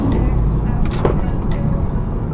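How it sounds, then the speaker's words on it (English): A large dump truck passes on a road, heard from inside a moving BMW 435i as a loud low rumble and rush with brief rattling clanks. "That was a huge ass dump truck."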